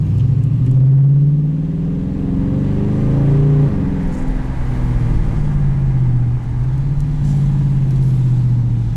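Loud, deep droning exhaust of a 2018 Dodge Challenger T/A Plus automatic with exhaust valves open, rising and falling in pitch as the engine accelerates through gears, close and continuous with no talking.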